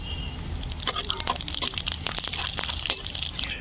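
Whole cumin seeds hit hot mustard oil with dried chillies and bay leaf in the pan, giving a steady close crackle and sizzle with sharp popping bursts throughout.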